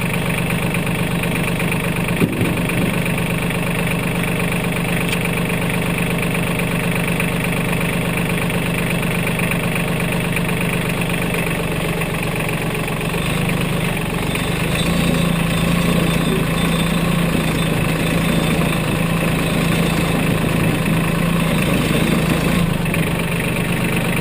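A 2017 Mahindra 1526 compact tractor runs steadily while mowing, its engine a constant near drone with a slight shift in tone partway through and no voices.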